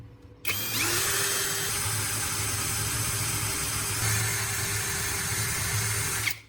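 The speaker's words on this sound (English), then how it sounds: "Place the flattened cap on a wooden board and drill a hole through the center." A power drill whines steadily and loudly for about six seconds, drilling through a flattened metal bottle cap on a wooden board, starting abruptly and cutting off at the end, close to the microphone.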